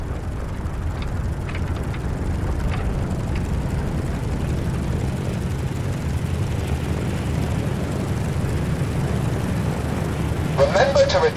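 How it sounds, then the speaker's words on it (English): Steady, droning aircraft engine of a plane gathering speed on takeoff in the Xbox 360 flight game Birds of Steel, a continuous loud low hum with a brief mechanical rattle near the end. "Your plane will start gathering speed."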